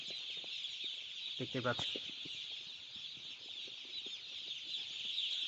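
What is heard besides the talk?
day-old Kazi Farm broiler chicks cheeping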